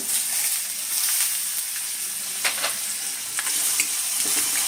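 Soaked chana dal tipped into a hot pan sizzles loudly and evenly. A few sharp scraping strokes of a spoon stirring the pan cut through the frying, with no voices.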